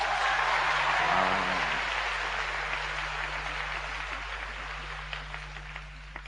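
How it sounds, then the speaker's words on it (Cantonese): Crowd applause at a Cantonese stand-up comedy show as the audience votes: a full burst of clapping that gradually thins and fades over several seconds, over a steady electrical hum. "想睇嗰隻互動棟篤笑嘅，拍一拍手"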